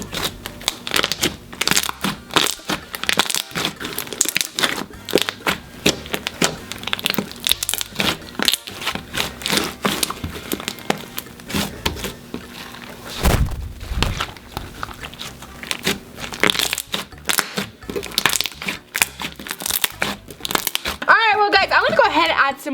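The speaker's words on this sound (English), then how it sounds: "it's like super soft and like super clicky" Glossy, very soft slime is squished and kneaded by hand, giving dense bursts of close, crisp clicking and crackling pops that continue in an uneven rhythm throughout.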